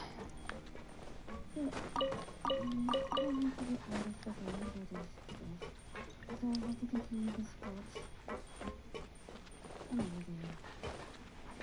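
A small dog whimpers and yips repeatedly in the video game Genshin Impact, plaintive whines rising and falling over game music with a person talking over it.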